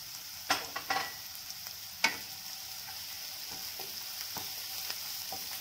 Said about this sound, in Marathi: व्यवस्थित परतून घेऊयात कांदे